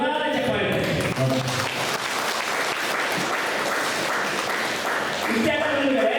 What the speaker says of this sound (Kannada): ಎಲ್ಲರ ಕೈ ಮೇಲೆ ಜೋರಾದ ಚಪ್ಪಾಳೆ